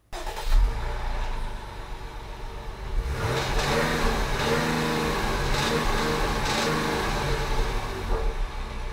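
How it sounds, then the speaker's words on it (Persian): A Jeep Grand Cherokee engine cranks and fires near the start, then settles into a steady, close running idle with a slight rising swell midway, with no talk over it. "این موتور یه صدای دلنوازی هم داره. یه استارت بزنیم"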